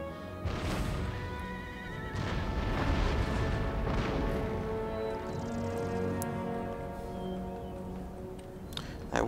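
Battle din from an Empire: Total War engagement against a star fort, with booming cannon barrages, whinnying horses and hoofbeats blending into a dense, continuous roar over nine seconds.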